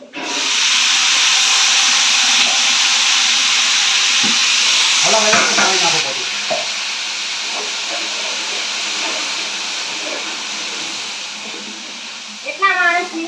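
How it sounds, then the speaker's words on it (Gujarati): Ginger-chili paste hits hot Amul ghee while tempering a large batch of kadhi, giving a loud, broad sizzle close by that settles into a steady hiss, with brief voices in the background. "આદુ મરચાંની પેસ્ટ નાખી દે."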